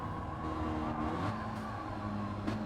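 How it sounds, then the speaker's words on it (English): A race car in Gran Turismo 7 holds a steady buzzing engine note against the rev limiter, a droning tone with slight pitch wobble and faint tire noise, no talk. "Oh, hitting the rev limiter"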